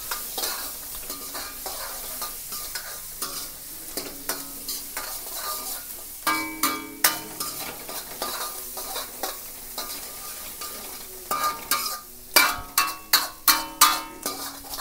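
Onions dropped into hot oil while cooking street-style veg Manchurian, with a steady sizzle and repeated stirring scrapes that grow louder and more rhythmic near the end; no one talks.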